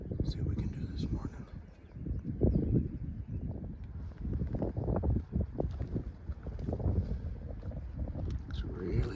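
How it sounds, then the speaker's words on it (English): Strong morning wind gusts outdoors during a spring turkey hunt, buffeting the microphone as a continuous low, uneven roar that swells and eases throughout. "It's really windy this morning."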